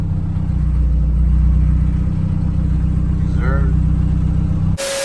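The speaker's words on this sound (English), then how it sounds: "Right now I'm just idling." A turbocharged Honda Civic engine idling, a steady close low rumble, with a short voice heard briefly before the engine noise cuts off near the end.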